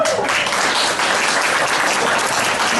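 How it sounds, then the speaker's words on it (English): A room full of people applauds for the women present at a candidate forum, a steady dense wash of many hands clapping at once, loud and continuous with no voices over it. "I want to do a special round of applause for all the women in the room"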